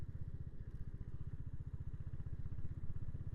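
A Royal Enfield Hunter 350 single-cylinder motorcycle rumbles steadily while riding, a low, rapid, even engine thump close to the rider, with a hiss of wind over it.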